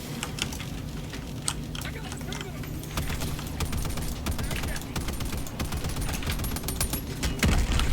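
Video game gunfire rattles in rapid, dense cracks that build toward the end, while people talk over the shooting.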